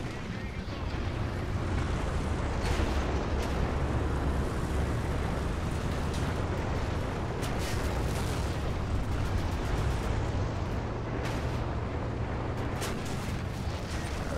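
Dense, continuous battle noise from War Thunder tank combat with a Type 62 light tank, booming cannon fire and sharp bursts over a constant engine roar, some distant, some close.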